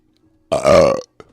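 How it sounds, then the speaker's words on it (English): A single loud, close burp lasting about half a second, followed by a brief faint click, with near silence around it. "I know you want farts, but enjoy the burps while we got them, man."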